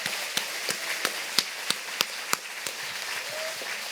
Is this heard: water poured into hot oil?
no